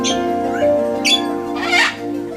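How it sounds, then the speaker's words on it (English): Parrots such as macaws and African greys squawk at an aviary, a few loud harsh calls and screeches close by, separated by short gaps over a steady hum of background noise. "These are just a few of the gorgeous species of parrots found at Parrots in Paradise"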